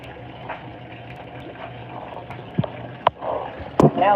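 Water gushes steadily into the drum of an Estate ETW4400WQ1 top-load washing machine on a super load fill, with a few sharp clicks and knocks near the end.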